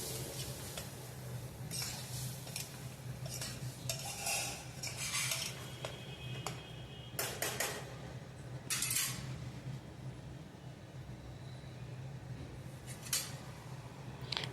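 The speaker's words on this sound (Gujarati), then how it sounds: "હવે તે બધું હલાવીને આપણે મિક્સ કરી દઈશું." A metal spoon stirs a bottle gourd and lentil curry mixture in a cooking pot, giving repeated light clinks and scrapes against the pot over a low steady hum; no voices.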